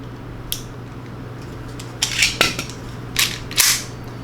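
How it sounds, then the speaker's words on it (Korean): Mechanical clicks and clacks from a Marushin Luger P08 dummy gun with a 6-inch barrel, gold finish and wooden magazine base being worked: a sharp click, then clustered snaps and rattles in pairs, close and crisp. "더미건답게 소리나 작동음이 꽤 좋아요"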